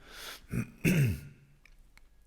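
A single gruff throat clearing up close, preceded by a short breathy rasp, then quiet with a few faint clicks.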